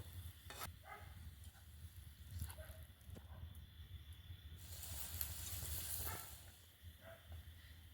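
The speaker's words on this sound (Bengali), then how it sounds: "এইভাবেই বারে বারে 6 থেকে 7 বার কোট করে করে তেলের মধ্যে ভেজে নেব।" Batter-coated ripe banana fritters deep-fry in oil, a soft continuous sizzle and crackle with occasional sharper pops, fairly faint and steady throughout without voices.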